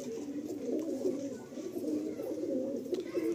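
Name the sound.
white-eyed Malbai pigeon cooing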